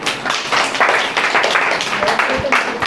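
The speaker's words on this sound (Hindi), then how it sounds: "तो बेटियों के लिए ताली बजा दो।" Classroom of students clapping for the daughters, a dense, steady patter of many hands filling the whole stretch at close range.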